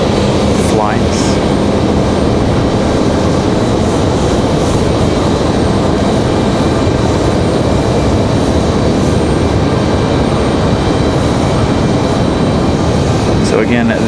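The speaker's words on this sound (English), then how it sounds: "So again, this is Delta coming from LaGuardia" A Delta airliner from LaGuardia at Raleigh-Durham airport gives off a loud, continuous broadband engine roar that stays level for the whole stretch, heard up close without a break.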